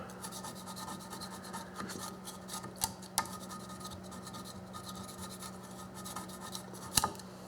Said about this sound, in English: First things I do is I go over it with a quick spatula. I just want to get the surface crap off